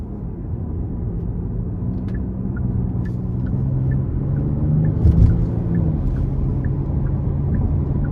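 A 2023 Genesis G80 Sport Prestige AWD with its 3.5-liter twin-turbo engine is driven hard in Sport Plus mode. A steady, low engine rumble builds gradually and holds under the cabin, heard from inside with no voices.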